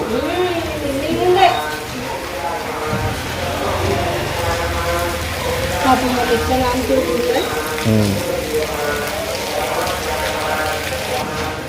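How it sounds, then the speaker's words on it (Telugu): Steady rain patters throughout, mixed with a child's chatter and other voices talking over it. "వర్షం అయితే ఆగుతలేదు ఫ్రెండ్స్ నిన్నటి నుంచి"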